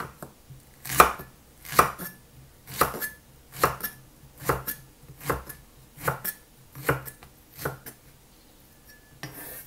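A knife chops mushrooms on a cutting board in a Thai home kitchen, about a dozen crisp, evenly spaced thuds, close and clear with no talk.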